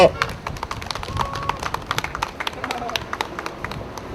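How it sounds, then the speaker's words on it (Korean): An audience at an outdoor gathering claps, sharp individual hand claps landing in a quick, uneven stream, close and distinct rather than a dense roar, fading slightly toward the end. "박수로 모시겠습니다."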